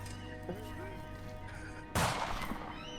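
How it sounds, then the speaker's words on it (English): Pistol gunshot sound effect in a tabletop role-playing session: one sharp, loud report that cuts in abruptly over a quiet bed of background music. "Oh, the gunshot! I heard it that time."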